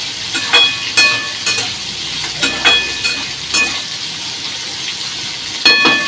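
Cauliflower and potatoes fry in a wok with a steady sizzle, broken by several sharp bursts of stirring and spatter that rise and fall close by, and no one talks.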